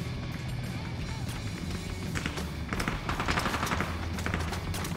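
Rapid gunfire in the Rules of Survival battle royale game (R.O.E): dense bursts of shots and footstep-like taps sit under a constant, noisy game soundscape, growing busier toward the middle before settling back.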